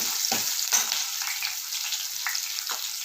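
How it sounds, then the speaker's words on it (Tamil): Garlic cloves and small shallots fry in sesame oil with a steady, bright sizzle, broken by a few soft scrapes of a spoon against the pan, close by and with no voices. "பூண்டெல்லாம் நல்லெண்ணெயிலே நல்லா வேகட்டும்."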